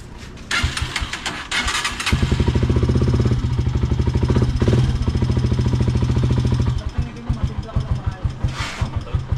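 A misfiring motorcycle engine that stalled is restarted and warmed up, cranking into a loud, uneven idle with sputtering pulses that fade into slower, irregular chugs; someone talks briefly.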